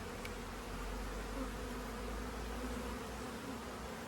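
Honeybees swarming around an opened hive with drawn brood comb, fighting among themselves. A dense, steady buzzing drone fills the air close by and never lets up.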